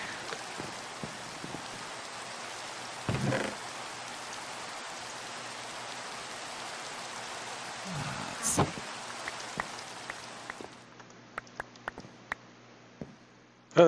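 Steady rain falls in Minecraft Sky Factory 3, a constant hiss of drops that cuts off partway through, leaving scattered faint clicks and taps in the quiet afterward.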